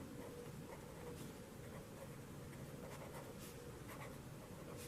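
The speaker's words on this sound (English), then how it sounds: "We'll write here total range" Marker writing on a board during a statistics lesson, quiet scratchy strokes in short bursts over a faint steady background.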